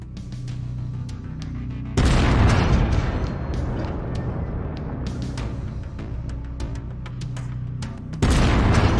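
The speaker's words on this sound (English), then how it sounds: "I've mapped the autocannon to Weapon Group 1. You're free to fire whenever you're ready." Autocannon fire in MechWarrior 5 comes as two heavy booming salvos, the first opening a long, dense roar that gradually fades, then a second sharp blast starting right at the end.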